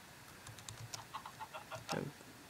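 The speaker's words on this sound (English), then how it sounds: "There's some chickens." A few soft, clipped Minecraft chicken clucks sound in a quick irregular series, faint and close, followed by a slightly louder squawk.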